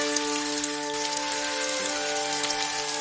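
Heavy rain sound effect, a dense, continuous hiss of pouring rain at steady loudness throughout, layered under sustained background music in a dramatic village story about a flood.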